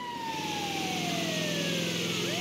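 Ambulance siren wailing in the video game GTA 5, a steady loud electronic siren with a slowly falling then rising tone, with vehicle engine rumble underneath and no talking.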